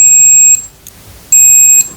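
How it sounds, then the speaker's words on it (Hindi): A multimeter set to continuity mode beeps while testing a BT136 triac, giving two loud, sustained high-pitched tones, each about half a second long, separated by a short gap, with a click at the end. "तो यहाँ पर मैंने कंटिन्यूटी पे लगा रखा है, इसलिए यहाँ पर बीप बज रही है।"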